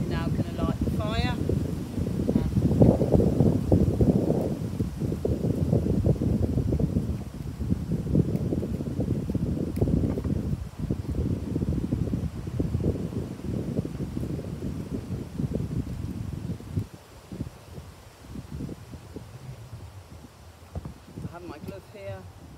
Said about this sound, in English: It's a bit windy today, so I'm hoping that it's actually going to go.